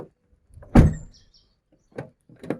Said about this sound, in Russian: дверью хлопаешь, он так вик.